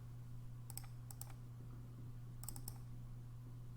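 Soft clicks from a computer mouse in Inkscape, heard as a couple of quick double clicks separated by a pause, faint and close over a low steady hum, with no talk.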